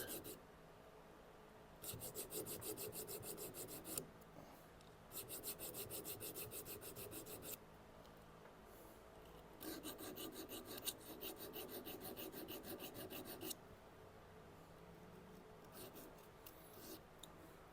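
A titanium serrated Leatherman blade grinds against a Tormek sharpener in bursts of steady, bright rasping strokes, separated by quieter pauses where only a low background hum remains.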